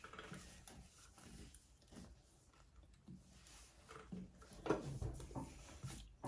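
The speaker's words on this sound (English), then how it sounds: "I'm going to stitch down these sides here to encase those raw edges" Sewing machine stitching down the sides of a handbag lining, a faint mechanical whir and clatter that keeps running unevenly, with a slightly louder stretch near the end.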